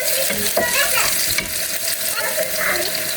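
Onions fry in a pan with capsicum and chilies for a bitter gourd stir-fry, a steady close sizzle broken by scraping stirs of a spatula through the mix.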